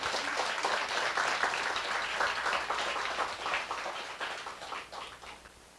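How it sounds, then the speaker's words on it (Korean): Church congregation applauding at a Korean ordination service, a steady wash of many hands clapping from the room, moderately loud and thinning out slightly toward the end, with no talking over it. "우리 김학준 목사님께 다시 한번 좀 크게 박수 좀 쳐주시면서 감사해 주시면 감사하겠습니다"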